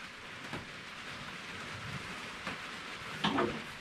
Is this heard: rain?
yes